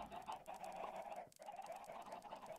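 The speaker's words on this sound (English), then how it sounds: "It's just an army of chickens." A flock of chickens clucking in Minecraft, a faint but continuous chorus of overlapping clucks with a short dip in the middle, no speech.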